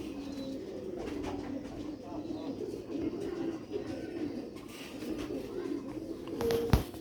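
Sialkoti pearl pigeons cooing in a low, continuous murmur of overlapping coos, with a few louder calls and a sharp knock near the end.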